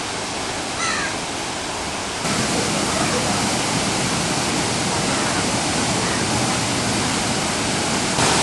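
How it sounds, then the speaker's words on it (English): Aravelam waterfall in Goa roars as a steady, dense wash of falling water that grows louder partway through, with a faint crow caw early on and no talk. "You can hear the sounds of the waterfall at a distance."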